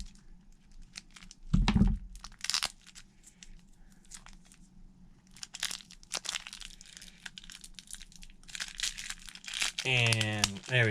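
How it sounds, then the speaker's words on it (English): Tape peeled and packaging crinkled while opening a Beyblade Burst booster, with sporadic crackling rips and rustles, a louder tear near the start, under a man's intermittent speech. "That should that should get rid of all the tape, I think,"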